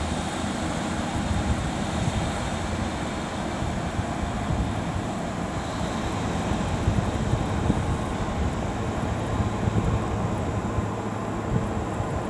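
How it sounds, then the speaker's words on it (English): Airplane flying high overhead near Liverpool South Parkway station, likely out of Manchester: a faint, steady distant drone mixed with wind and outdoor rumble, holding evenly throughout with no talk. "I've got a plane above me as well."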